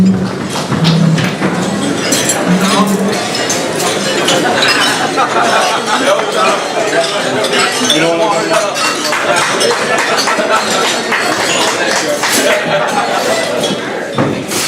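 Glasses clinking during a toast at a club dinner dance, many overlapping chinks and taps amid loud crowd chatter and a room full of voices throughout.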